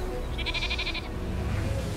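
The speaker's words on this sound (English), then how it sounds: "sheep" Sheep bleat in a New Zealand rural setting as one short, clear, wavering call, with steady outdoor background noise continuing after it.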